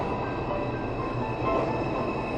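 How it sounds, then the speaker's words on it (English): A New York City number 4 or 5 subway train rumbles into the 59th Street downtown station in Manhattan, a steady loud roar of wheels and cars without talk. "A number 4 and number 5 train approaches the 59th Street downtown station in New York City, Manhattan."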